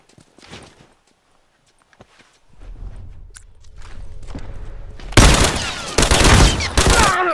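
Rifle gunfire crackles in The Last of Us after a quiet stretch with faint footsteps and rustling, breaking into loud, sharp bursts of repeated shots near the end.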